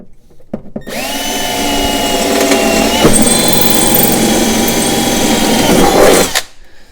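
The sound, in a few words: power drill drilling through cabinet back side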